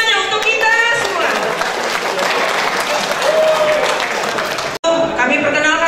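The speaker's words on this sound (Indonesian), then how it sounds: "Tepuk tangan semuanya untuk kita semua." Loud applause from a large crowd at a business mega conference in Bekasi, sustained clapping for about five seconds, a sudden cut near the end, then more clapping with some voices mixed in.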